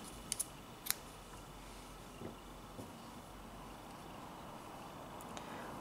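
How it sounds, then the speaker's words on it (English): Scissors snip through green yarn at a crochet project, a few quiet, sharp clicks near the start, then faint room hiss. "you can cut the green yarn"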